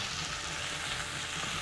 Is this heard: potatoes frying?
yes